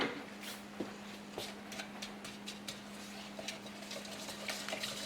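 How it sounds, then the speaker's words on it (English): Brown sugar lumps being broken up for a pineapple upside-down cake, heard as faint, scattered soft taps and scrapes of a utensil against a bowl over a steady low hum, with no talking. "Now I'm breaking up the brown sugar lumps"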